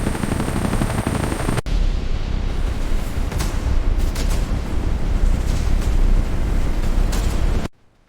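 A military helicopter's engine and rotor run at full power during a spin test, a loud continuous roar with heavy low-frequency thumping and gusty buffeting, cutting off abruptly at the end.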